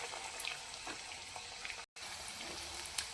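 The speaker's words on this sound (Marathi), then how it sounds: "एकदम बारीक गॅसवरती आपल्याला हे फ्राय करून घ्यायचे आहेत" Egg bhaji frying in oil over a low gas flame makes a steady, faint crackling sizzle with small pops throughout, broken by a brief dropout.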